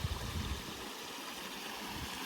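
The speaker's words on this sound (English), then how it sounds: "this stream here that comes down from Alport Head" A small moorland stream running down from Alport Head, a steady close broadband rush of flowing water with no voices over it.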